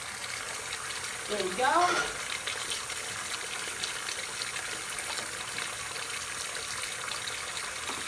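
A pot of water and pasta shells dumped into a kitchen sink, a steady rushing gush of water down the drain with a brief louder splash early on, while a voice speaks briefly.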